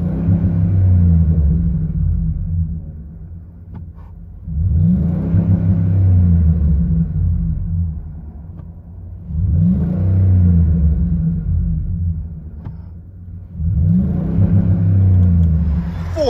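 A 2014 Ford Expedition EL with a 5.4L Triton V8 and a Flowmaster Super 44 exhaust revs repeatedly, each deep, throaty rumble rising and falling in four strong surges, loud and close, with no talk.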